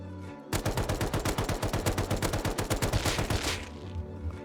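Sustained automatic fire from an LR rifle with an 8x scope in the game Rust, a rapid continuous stream of loud punchy shots lasting about three seconds before cutting off.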